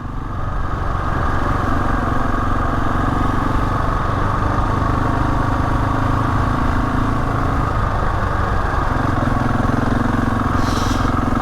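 A motorcycle engine hums steadily at cruising speed on a pebbly road, loud and close, with slight shifts in pitch as the ride goes on and no talking.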